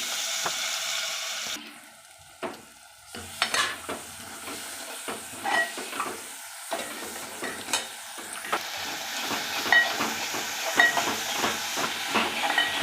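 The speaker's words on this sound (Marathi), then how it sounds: "मसाला आपण तेल सुटूपर्यंत भाजलेला आहे।" Masala sizzles and crackles in hot oil for an Indian egg curry, with a continuous frying hiss broken by irregular stirring scrapes and pops, close up and without talk.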